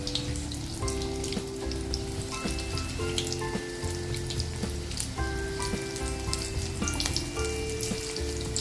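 Chili fritters (street-style mirchi bhaji) deep-frying in oil over medium gas flame, a loud continuous close sizzle with crackling bubbles throughout and no talking.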